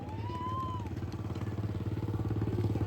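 Motorcycle carrying three BSF riders in a balance stunt display, a steady mid-pitched engine thrum with rapid regular pulsing, fairly close, with a brief whistle near the start and faint talk underneath.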